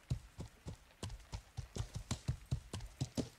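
A horse's hooves clip-clop in the game Life is Feudal, a quick, even series of distinct thuds about four per second, close and fairly quiet, with no other sound around them.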